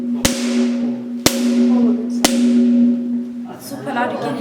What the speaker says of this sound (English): here we have the flowstone formation that makes sound